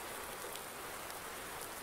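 Rain in the farming video game Farm Simulator 19, a soft, steady, even patter on surfaces that holds unbroken and faint for two seconds with no speech.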